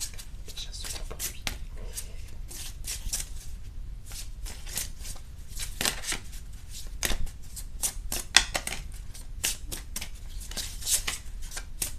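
Tarot cards shuffled and drawn by hand in a live reading, giving rapid bursts of crisp papery riffling and flicking that come in dense clusters, with brief pauses and a soft voice underneath at moments.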